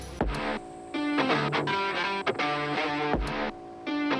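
A 12-volt electric air pump runs steadily while inflating an XTM Air Cruiser rooftop tent on a car, giving a continuous harmonic motor drone that briefly dips and resumes, close and fairly loud.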